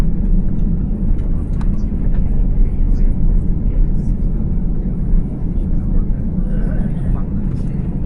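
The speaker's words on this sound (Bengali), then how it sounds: "এইবার আমরা সম্ভবত প্রধান যে রানওয়ে, এই ট্যাক্সিওয়ে থেকে প্রধান রানওয়ের দিকে যাব এবং ভুঁ করে টান দিবে" A Thai Airways airliner taxis toward the runway at Dhaka, heard from inside the economy cabin: a loud, steady low engine rumble and whoosh runs throughout, with faint voices mixed into the drone.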